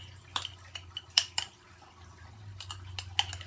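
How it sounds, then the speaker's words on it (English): A spoon scrapes and clinks against a pot of blueberry oatmeal made with frozen blueberries. Irregular metallic taps and scrapes come close and fairly quiet over a low hum, with no talking. "let's stir this up"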